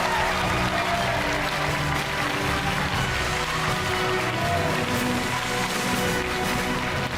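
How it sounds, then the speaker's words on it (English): A TV quiz show studio audience applauds steadily throughout, a dense, even wash of clapping with no break and no one talking. "Another round of applause then for Stephanie."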